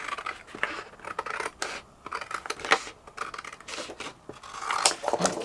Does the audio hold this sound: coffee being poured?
no